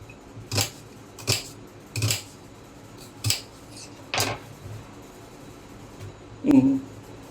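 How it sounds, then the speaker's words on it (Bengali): A knife chopping onion on a board in a home kitchen: seven or so sharp, separate cuts at an uneven, unhurried pace, close and clear in a quiet room, ending with a heavier knock. "পেঁয়াজটাকে ভালো করে কেটে নেব।"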